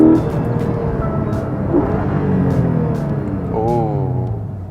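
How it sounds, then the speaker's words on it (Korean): A Porsche Boxster GTS 4.0 roars under way, its steady, resonant exhaust note rising and falling with engine speed, heard from inside the car alongside road noise. "포르쉐 특유의 그 웅 하면서 음악을 만들어내는 것 같은 사운드"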